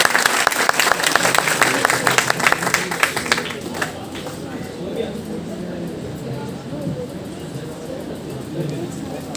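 Audience at a university open mic event applauds a singer: dense, loud clapping for about four seconds, then thinning and fading into a quieter crowd murmur with voices.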